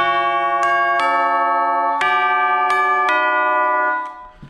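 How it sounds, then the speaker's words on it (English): Commercial jingle melody struck on chimes, six bright metallic strikes with long ringing sustain and overlapping harmonics, played alone at a moderate pace before fading out. "Chimes."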